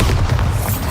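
Bombarda blasting spell detonating in Hogwarts Legacy, a loud, sustained booming explosion with heavy low rumble lasting about a second.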